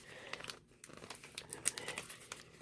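A package of scrapbook embellishments wrapped in twine is opened by hand, giving close, soft crinkling and paper crackles in irregular bursts with a couple of brief tearing rustles.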